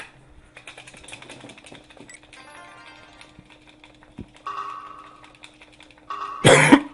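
One loud, close cough bursts out near the end, after quiet clicking and faint retro video game sounds during a Mystical Ninja Starring Goemon speedrun.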